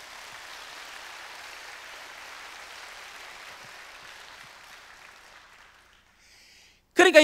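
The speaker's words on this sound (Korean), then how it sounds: "우리 박수로 영광 올립시다." A church congregation applauds during a Friday prayer service in a steady wash of clapping that gradually fades out, followed by a brief loud burst of noise at the end.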